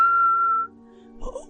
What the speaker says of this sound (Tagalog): May sumisipol!